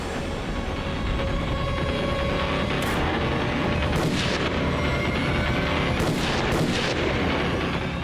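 Gunfire in a crime drama scene: several loud, separate shots crack out over a constant, heavy background rumble, with some shots spaced apart and two close together near the end.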